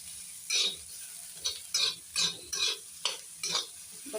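Onions being sautéed in a pan to a deep brown, heard as a series of distinct stirring scrapes roughly every half second over a faint, quiet sizzle.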